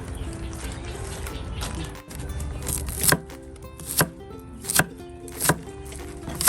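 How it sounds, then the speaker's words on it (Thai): Green onion and coriander chopped on a board in a home kitchen, sharp knife strikes spaced about a second apart, close and clear over a quiet background hum with faint liquid sounds. "หั่นหอมหั่นผักชี"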